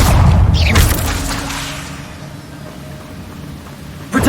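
A fire spell is cast in the Hogwarts Legacy video game, deep in the Forbidden Forest. It opens with a loud booming burst, fades into a low rumble, then a second sharp burst flares at the end.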